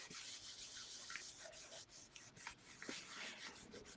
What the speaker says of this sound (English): all I do is give it a little rub